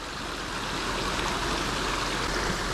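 Water rushing steadily through a partly removed beaver dam, a constant close stream-like flow with no other sounds.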